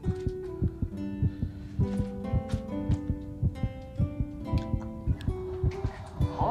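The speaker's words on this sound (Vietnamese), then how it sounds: "Tim mình đang đập thình thịch sao" A heartbeat sound effect thumps in a steady, regular rhythm beneath soft background music in a Chinese romance drama, with no voices.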